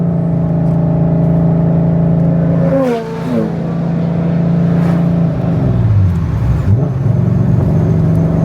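A VW MK6 swapped with a 3.6 VR6 R36 engine, naturally aspirated with hot cams and a single-mass flywheel, hums loudly, then gives sharp throttle blips as revs rise and fall around gear changes.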